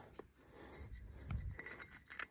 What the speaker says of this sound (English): You can even hear it, man. It sounds like glass or porcelain.